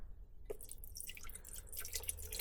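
Water runs into a measuring cup for cooking rice at a camp stove in a truck camper, a light trickling and dripping pour heard up close and quietly, alone without voices.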